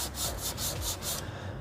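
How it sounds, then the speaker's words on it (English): Sanding a car bumper by hand with 320 grit sandpaper during body repair: close, steady rhythmic rasping strokes, about five back-and-forth passes in quick succession. "Sand out those 180 grit scratches"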